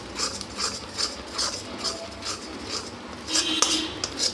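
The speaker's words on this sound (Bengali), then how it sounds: "এইভাবে অনবরত নাড়তে থাকবো, নালে লেগে যাবে।" A spoon scrapes and clinks against a pan while tangy yogurt chutney is stirred continuously over low to medium heat, a run of repeated metallic scrapes and taps at close range.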